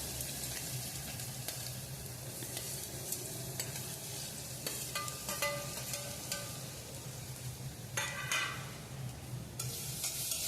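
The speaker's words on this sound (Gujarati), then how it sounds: "હવે તે આ બધું આપણે હલાવીને મિક્સ કરી દઈશું." Bottle gourd and tomatoes are stirred in a pan with garlic paste, making a continuous soft sizzle with repeated close scraping strokes of the spoon throughout.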